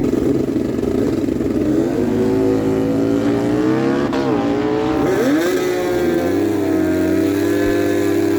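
An engine roars at a dragway as an 09 Harley Bagger and an 01 Kawasaki ZX R1 1200R race heads up. The loud revving holds steady, then its pitch sweeps up and down as the bikes launch and pull away.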